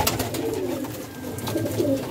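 Pigeons coo softly near a loft where young birds are being raised. The low, rolling coos repeat steadily over a background of quiet outdoor ambience, with no voices.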